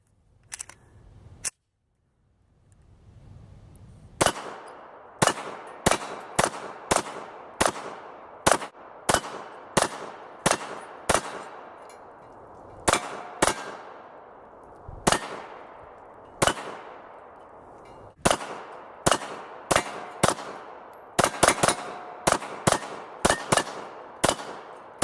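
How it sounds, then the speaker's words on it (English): Many shots from a Smith & Wesson M&P 9 pistol strike hanging steel plates at an outdoor range. Sharp cracks and metallic rings come in quick, uneven strings with short pauses, followed by a final rapid volley. "I think I'll just go after those steel plates right now"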